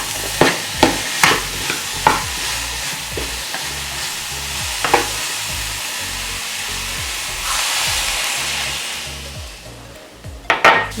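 Agave syrup and cinnamon heating in a pan over low heat, a steady soft sizzle with a string of sharp spoon-and-pan clicks early on, a brief louder hiss near the end.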